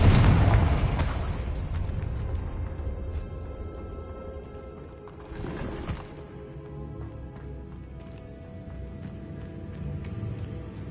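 Fire spell explosions in the Hogwarts Legacy video game: a loud booming burst near the start and another around the middle, set over a steady game soundtrack and ambient rumble, with no talking.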